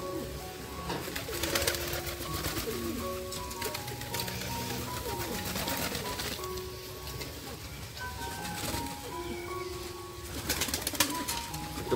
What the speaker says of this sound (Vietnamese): Chim bồ câu đang ăn.